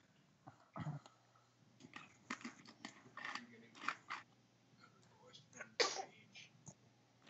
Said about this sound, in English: Sneezing like her dad.